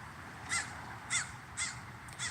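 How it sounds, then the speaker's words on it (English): Four loud, harsh caws ring out at roughly even intervals over a low rumbling background, fairly close and noisy. "It's the noisiest birds."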